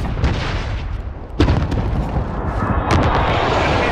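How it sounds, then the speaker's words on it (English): Precision airstrike explosions in Call of Duty Modern Warfare: heavy booming blasts with sharp onsets near 1.4 and 2.9 seconds, set against a continuous rumbling battle din, loud and close. "Enemy precision airstrike inbound."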